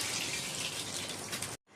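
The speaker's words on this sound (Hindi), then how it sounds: "इसमें मैं तकरीबन आधा कप पानी डाल दूंगी।" About half a cup of water is poured steadily over tomatoes, garlic and onion in a cooking pot, a continuous splashing rush that cuts off abruptly.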